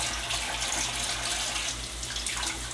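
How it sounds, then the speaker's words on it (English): Mushrooms being washed under running tap water, a steady unbroken splash and hiss of faucet flow into a sink, close and fairly loud, with no voices. "Washing mushrooms, not fun."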